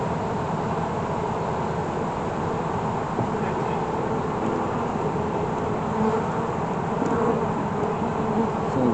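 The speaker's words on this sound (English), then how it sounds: "And some bees coming out." Honeybees buzz around an opened backyard hive during an inspection, a steady close drone that holds at an even level throughout with no voices.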